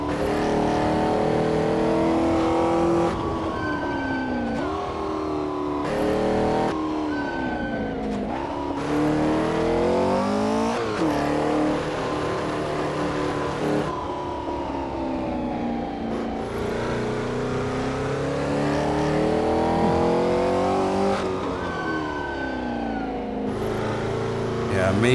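A 1964 Porsche 904/8 engine screams loudly and steadily near redline in second gear, its pitch rising and falling with repeated revving and short lifts over a continuous racing drive.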